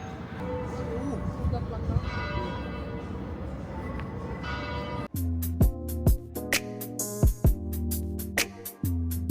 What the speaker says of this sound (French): Vous entendez le carillon?